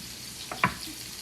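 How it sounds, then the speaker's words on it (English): Onions and apples fry in an electric frying pan set to 400, giving a steady, soft sizzle with a couple of brief clicks near the middle. "It's an electric frying pan."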